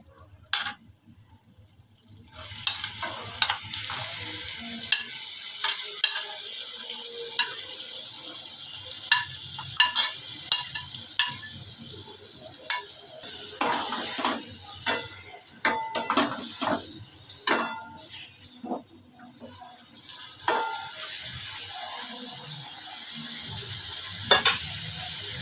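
Mourola fish frying in a pan for a spicy jhal, a steady loud sizzle running throughout with intermittent sharp clinks and scrapes of a utensil stirring, no talking.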